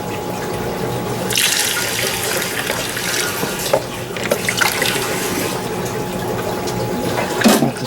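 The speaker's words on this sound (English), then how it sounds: "I got a funnel, and I gotta get rid of some of this water" Aquarium water drains steadily through a funnel, a continuous splashing, running-water rush heard close, with a few louder gurgles and splashes along the way and no voices.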